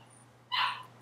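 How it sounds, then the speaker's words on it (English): One short, sharp yap from a small dog rings out in the background of a quiet room, alone and brief. "can hear a little dog barking in the background."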